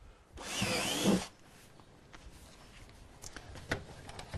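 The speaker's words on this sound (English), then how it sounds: "So first I'll use a 3/8 inch battery drill to drill a pilot hole." A 3/8 inch cordless battery drill bores a pilot hole into a plastic container in one close, loud whirring burst under a second long, followed by quieter clicks and handling noises.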